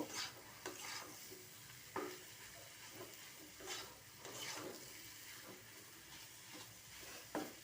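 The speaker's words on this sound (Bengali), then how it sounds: "এখানে আমি আলুটা কিছুক্ষণ কষায় নেব।" Potatoes stir-fried in a pan for a kachori filling, with soft sizzling and repeated scraping stirs, fairly faint and steady with occasional louder strokes, no voices.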